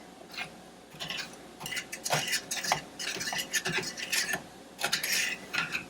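Elderberry jam with sugar stirred in a pan, a spoon scraping and rubbing across the bottom in repeated rasping strokes, close and moderately loud with no talking.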